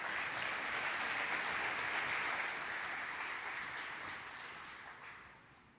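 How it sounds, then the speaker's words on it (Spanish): Audience at a lecture on globalization and development applauds a speaker after his introduction, steady clapping from a crowd that holds even for a few seconds, then gradually tapers and fades near the end. "Un aplauso, por favor, para él también."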